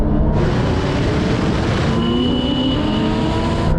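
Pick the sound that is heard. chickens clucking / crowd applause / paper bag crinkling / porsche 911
porsche 911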